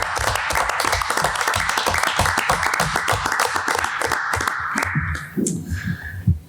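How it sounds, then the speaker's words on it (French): An audience at a community gathering applauds: a dense, loud burst of many hands clapping that lasts about five seconds, then fades into a few scattered claps and room noise. "j'aurais le goût qu'on lui donne une belle main d'applaudissement"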